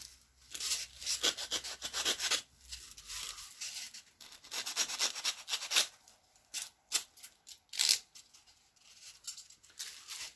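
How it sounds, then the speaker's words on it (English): Light hand sanding on the top of a small tabletop-game model mushroom, heard as soft, close, intermittent scratchy rubbing strokes in uneven bursts with short pauses between. "I need to give the top a little sand down."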